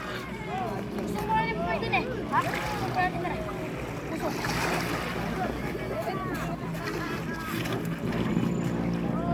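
Boat out on open water near Lobo, Batangas, a steady engine and wind-buffeted rumble running throughout under the constant chatter and calls of several people nearby.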